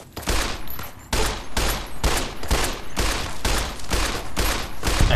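Rapid gunfire in the video game Fallout: New Vegas, with bursts of loud close shots in quick rhythmic clusters, about seven volleys in a row with no talk over them.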